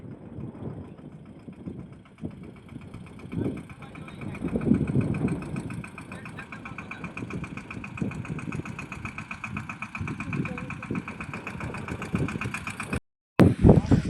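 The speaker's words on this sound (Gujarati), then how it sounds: "આ છે આપણું કાઈસર ટ્રેક્ટર." A Kaiser tractor engine runs steadily at idle on a farm field, a low rumbling chug that continues throughout with a brief dropout near the end.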